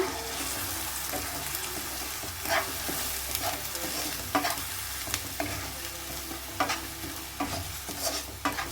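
Four sliced onions frying in oil for fish fry, a continuous sizzle with repeated scraping clicks as a spoon stirs the pan, close and moderately loud with no speech.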